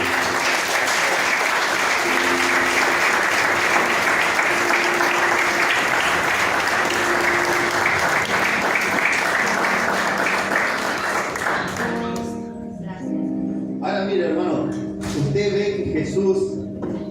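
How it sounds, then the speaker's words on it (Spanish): Sustained congregational applause fills a church during a sermon, steady and dense for about twelve seconds before thinning out, with voices and tapping rising through the tail end. "Así que dale un aplauso poderoso."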